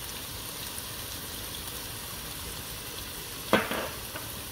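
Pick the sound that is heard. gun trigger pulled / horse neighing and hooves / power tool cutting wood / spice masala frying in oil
spice masala frying in oil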